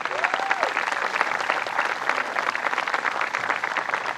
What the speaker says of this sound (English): you can give them a round of applause too